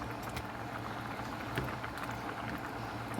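Tomato spaghetti sauce with big chunks of tomato simmering in a pot, a steady soft bubbling and popping texture without pause, fairly quiet and close.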